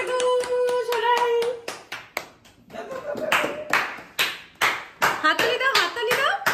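Family members clap their hands during a home anniversary celebration, the sharp claps arriving in quick irregular bursts after a stretch of singing and chatter, with voices continuing alongside.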